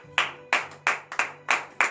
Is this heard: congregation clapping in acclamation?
yes